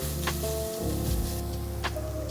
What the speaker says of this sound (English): Let that get a little direct heat, get a little caramelization, a little browning on the tomato paste.